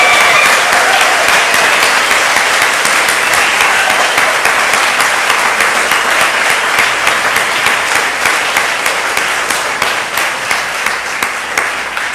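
A Unitarian congregation claps steadily at a Flower Communion service after a tribute to the high school youth group, a dense, even wash of hands that carries on alone for about twelve seconds and tapers slightly at the end.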